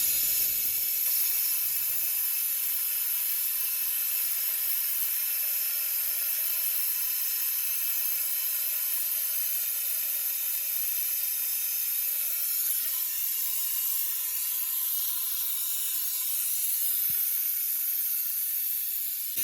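A steady, sharp hiss of air being drawn out through an Airvac coolant refiller valve on a BMW E92 M3's cooling system, continuous and fairly close, with a brief faint click partway through and no talking.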